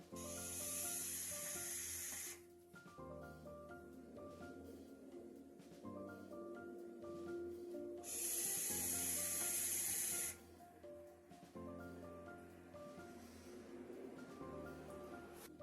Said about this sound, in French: je vais cracher la fumée.